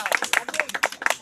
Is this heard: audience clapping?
yes